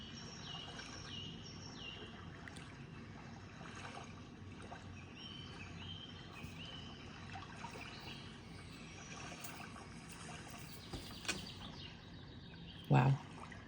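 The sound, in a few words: birds chirping on a lake with water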